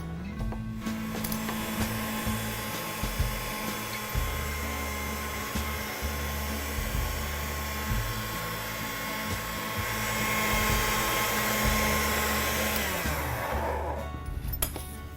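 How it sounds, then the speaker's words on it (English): Fondant is fed through a pasta machine while making a wedding-cake ribbon and bow, giving a steady, close mechanical whirring drone that holds for about thirteen seconds before cutting off. "I will feed this through our pasta machine."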